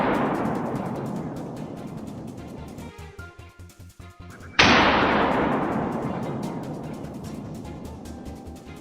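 A single loud, sharp gunshot fired at a wild boar in Texas farm fields, cracking suddenly midway and trailing off in a long decaying echo over a rustling outdoor background.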